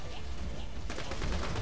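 Gunfire in Borderlands 2 during the Assault on Dragon Keep campaign, a dense rattle of rapid shots that bursts in about halfway through over a steady game background and keeps going to the end.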